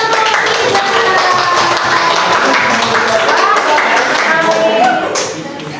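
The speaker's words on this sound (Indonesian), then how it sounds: "Tepuk tangan" A classroom audience claps for a presenting group, a dense burst of applause lasting several seconds before fading out near the end, with voices mixed in.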